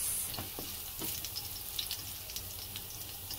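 Garlic sautéing in hot oil until golden brown gives a steady close sizzle and crackle, with occasional soft scrapes and stirs of a utensil in the pan throughout.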